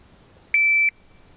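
A shot timer buzzer sounds at a tactical pistol exam on a firing range: one steady electronic beep lasting about a third of a second, loud and clear over a quiet background.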